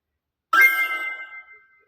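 A phone notification rings out as one bright, bell-like ding after a short silence, loud and close, then fades slowly over about a second.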